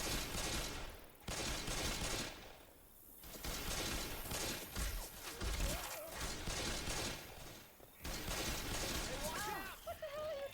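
Pistol gunfire in the video game Palia, dense bursts of shots and loud game action running through most of the stretch, with people talking over it.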